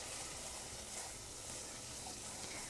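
Organic plain flour being stirred in a pan to make a roux, giving a faint, steady sizzle and hiss without any voices.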